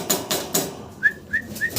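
Yellow owl pigeon chicks, a pair of young fancy pigeons, give short thin chirps, three clear peeps in a row after some broadband rustling at the start, at moderate loudness with no talk.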